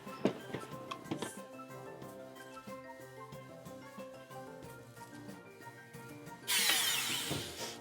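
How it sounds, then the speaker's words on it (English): A power drill bores a hole in a costume bracer piece. Clattering handling and tapping come first, then the drill whirs loudly and closely near the end. "I'm going to go ahead and drill this hole"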